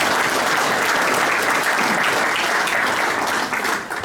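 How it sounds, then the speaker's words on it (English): Steady audience applause filling a hall at a Pro Football event, many hands clapping loudly and evenly for about four seconds before tapering slightly at the end. "let's give her a round of applause"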